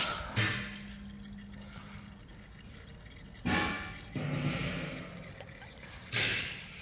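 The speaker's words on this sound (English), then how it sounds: "So just drain out all the oil from here." Engine oil drains from a Yamaha MT-09 in a steady close trickle, broken by three louder gushing surges spaced a few seconds apart.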